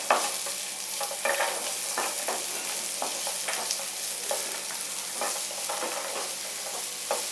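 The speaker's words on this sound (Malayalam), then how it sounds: "അതങ്ങോട്ട് ചേർത്തിട്ട് നമുക്കിതൊന്ന് നല്ല ഗോൾഡൻ ബ്രൗൺ ആവുന്ന വരെ നമുക്കിത് വഴറ്റിയെടുക്കണം" A steady, close sizzle of finely chopped onions frying in hot oil until golden brown for egg masala, broken by repeated scraping strokes as they're stirred around the pan.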